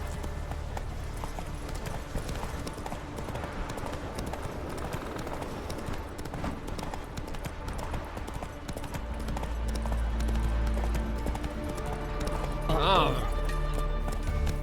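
Horse hooves clip-clop at a steady gallop in The Witcher 3 video game, a continuous rhythmic pounding under game dialogue, with a brief whinny near the end.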